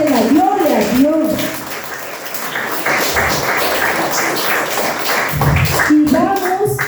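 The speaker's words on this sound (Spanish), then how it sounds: "Démosle un fuerte aplauso al Señor, démosle la gloria a Dios." A congregation at a Spanish-language church service breaks into a few seconds of broad, steady applause. A preacher talks just before and after it.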